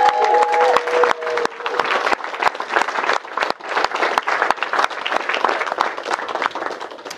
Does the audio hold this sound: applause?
yes